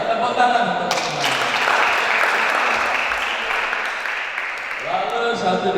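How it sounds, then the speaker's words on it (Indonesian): Audience applause at a scripture storytelling competition, a sustained wash of many hands clapping that swells and then fades, with a voice speaking at the start and end. "Tepuk tangan untuk semuanya."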